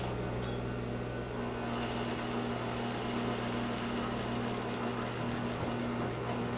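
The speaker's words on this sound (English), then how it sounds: "And then back stitch where I stop." A sewing machine back stitches fabric while sewing an inward-corner sample, giving a steady close mechanical hum and rapid rattling drone that runs continuously and evenly throughout.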